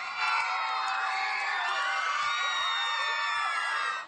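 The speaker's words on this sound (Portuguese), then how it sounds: "Gritos." A concert crowd of fans waiting for an actor and singer screams and shrieks continuously, a dense high-pitched roar that holds steady for about four seconds, loud and close.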